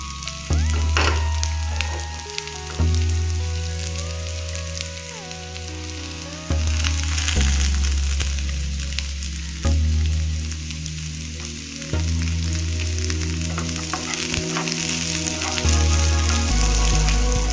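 Onions frying in hot oil for a home-style prawns roast, a loud continuous sizzle with clinks and scrapes of stirring over a low steady hum, no talking.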